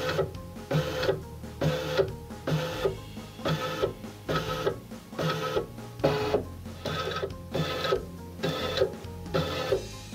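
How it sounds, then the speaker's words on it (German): A PFAFF Creative Icon 2 sewing and embroidery machine scans its embroidery hoop with a regular, repeating mechanical whir and clatter, about one cycle per second. It is steady, close and loud, with no voices. "dann beginnt die Maschine den Rahmen zu scannen."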